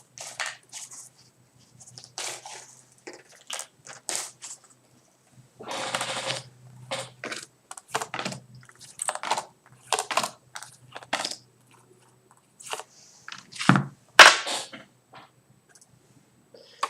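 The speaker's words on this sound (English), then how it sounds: "And we're going to shuffle till it feels right and draw another card for you." A deck of cards shuffled by hand, giving short bursts of riffling and flicking separated by pauses, close and clear with no talking.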